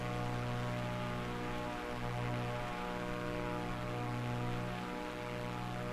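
Steady engine drone of a light plane on approach to land on a short runway in Microsoft Flight Simulator 2024, a continuous even hum with strong low harmonics and broadband hiss, no talk.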